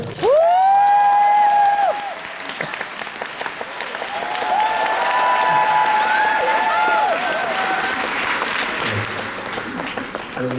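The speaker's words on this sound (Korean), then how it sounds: "여러분들 다시 한번 큰 박수로 맞이해 주시기 바랍니다." A concert crowd applauds and cheers loudly as the next singer is welcomed to the stage. A voice sings or calls out over the sustained clapping, with whoops rising toward the end.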